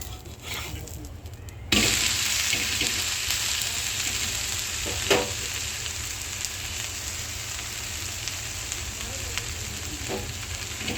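A dosa fries in oil on a hot pan, a steady close sizzle that jumps louder after a couple of seconds and then runs on evenly, with a few faint scraping sounds.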